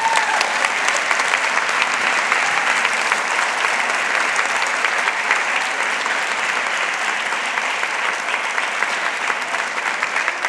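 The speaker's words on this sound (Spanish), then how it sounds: "ahora dale un aplauso a Dios si quieres" A church congregation applauds steadily for about ten seconds, a dense and continuous burst of clapping with no pauses or talking.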